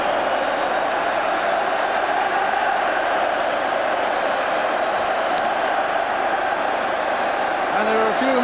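Crowd at a football stadium during the 1980 League Cup Final between Wolves and Nottingham Forest, a loud continuous roar of thousands of spectators with a commentator speaking over it.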